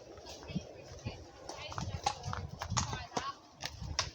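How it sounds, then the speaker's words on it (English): Horses walk past on a path at a nature reserve by a river, their hooves clip-clopping in an uneven rhythm close by while people talk quietly in the background. "And some horses coming."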